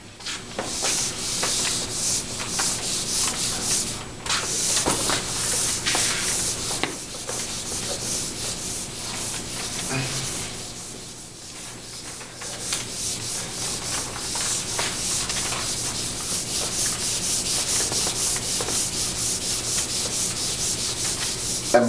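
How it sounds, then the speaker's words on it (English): An eraser rubbed back and forth on paper while working a math problem, giving steady scratchy rubbing strokes throughout, close and fairly loud with a brief pause near the middle. "I'm glad my eraser erases so awesomely."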